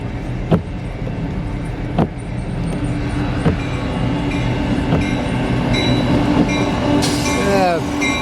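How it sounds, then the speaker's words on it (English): A CN local freight train rolls past close by, with steady wheel rumble and rhythmic clicks over rail joints, then a squeal of wheels on the track near the end. "Got a local train coming in."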